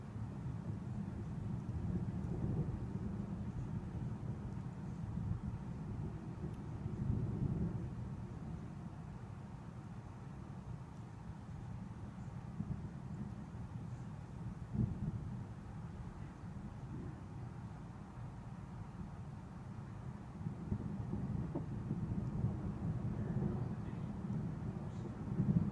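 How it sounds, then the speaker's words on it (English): Deep, continuous thunder rumbles through a tornadic thunderstorm in Mississauga, Ontario, in June 2017, a steady low roar that swells slightly in places and carries on for the whole stretch with no voices over it. "That's all you can hear right now is thunder."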